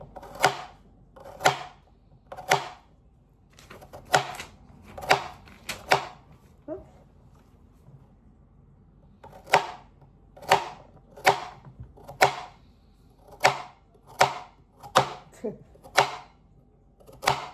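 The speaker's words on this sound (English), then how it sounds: "You just cut them up." Vegetables such as carrot being cut up on a board for hot and sour soup: sharp knife chops in quick bursts of three to five strokes, separated by short pauses, close and crisp.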